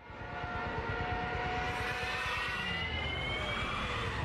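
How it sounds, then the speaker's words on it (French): A Junkers 87 Stuka, the German WWII dive bomber, roars with a heavy propeller drone under a long, slowly shifting siren-like wail. The sound is steady and loud after a quick swell, with no voices. "Vous connaissez forcément ce son, c'est celui des Junkers 87, les plus célèbres avions allemands de la Seconde Guerre mondiale."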